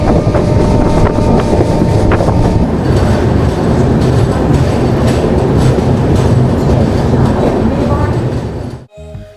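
Loud, steady rumble and rhythmic clickety-clack recorded from inside the 12964 Mewar SF Express on an overnight run near Kota, continuing without a break before cutting off abruptly.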